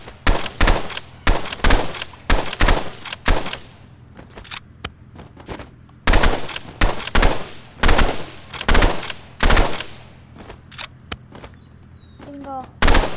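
Rapid bursts of gunfire from a standard weapon in the video game Rivals, loud and close, repeating in a steady rhythm of short volleys with only brief gaps between them.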